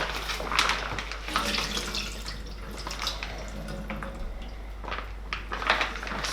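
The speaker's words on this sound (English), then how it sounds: "So what I'm going to do here is snip this bag open and drain off these juices." Steak juices pour and drip from a snipped-open cooking bag, a soft close trickle with intermittent splashes and drops running steadily, over a low background hum.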